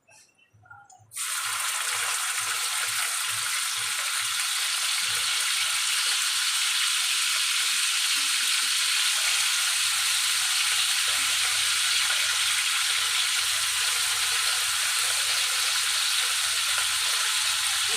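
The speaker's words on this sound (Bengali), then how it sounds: "এবার বিনসগুলো ভাজবো।" Green beans fry in a pan for vegetable fried rice, starting after a second of quiet with a sudden loud, dense hiss that holds steady and close for the rest of the clip.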